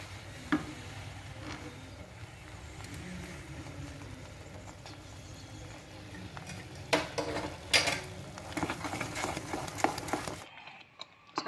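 Spoon stirring saffron-orange food colouring into rice kheer in a pot, soft scraping and clinking close by, with sharper metallic taps toward the end before it falls quiet.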